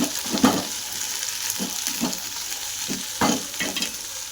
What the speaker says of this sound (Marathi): दहा मिनटं परतून घेऊ